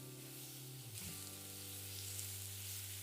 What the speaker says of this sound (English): toast them off nicely here with the onions in the oil